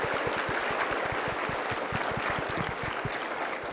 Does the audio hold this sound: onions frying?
no